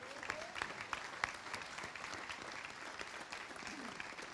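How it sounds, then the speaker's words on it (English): Applause at a US Army birthday ceremony swelling after soldiers take their oath, a fairly quiet, even patter of many hands with a few sharper claps near the start and a faint voice underneath. "Let's give them a round of applause."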